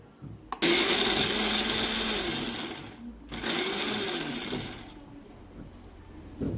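A mixer grinder whirs loudly as it purees cooled onion and tomato into paste for egg curry, running in two long bursts of several seconds each with a brief pause between them, then quietening to a low residual hum.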